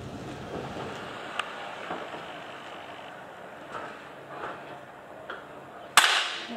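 An air gun is fired at a target outdoors, a single sharp crack near the end that stands out above steady wind and background rumble.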